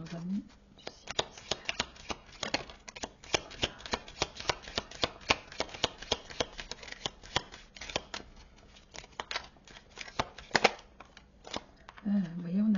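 Tarot cards are shuffled by hand in a long run of crisp riffling flicks and slaps, close and steady for most of the stretch, with a voice speaking briefly at the start and end.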